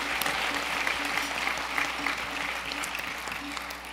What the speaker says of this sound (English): Now, yes, I will applaud that.